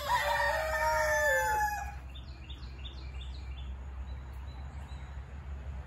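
A yellow rooster crows loudly and close for about two seconds, then stops, leaving faint chirping birds and a low steady rumble in the background.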